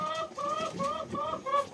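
Chickens cluck repeatedly at close range, a steady series of short nasal calls in quick rhythm.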